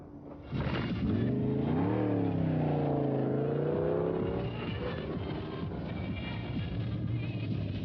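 A race car in the Silver State Classic Challenge, a Nevada open-road race, approaches and passes with a rising, then steady engine note that stays loud and close through most of the clip.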